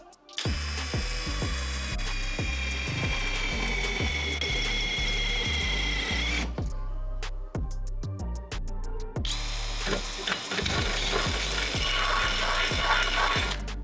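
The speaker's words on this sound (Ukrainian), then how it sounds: "Нанесли трошки мастила і починаємо сверлити." A Dnipro-M CD-200BC Compact cordless drill, run in second gear at low speed, bores into lubricated metal with a 10 mm bit. The sound is a loud, steady mechanical whine with a grinding, chattering rhythm. It stops briefly partway through, then resumes.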